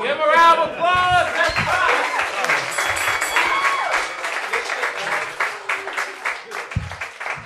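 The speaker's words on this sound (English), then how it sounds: "Oh, give him a round of applause!" A comedy club crowd at a roast battle breaks into applause and whoops right after a laugh, with an emcee's voice over the start, then sustained clapping that slowly eases off.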